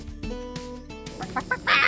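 A chicken clucks close by among meatbirds kept outdoors, a few short clucks building to a louder squawking burst at the end, over light background noise.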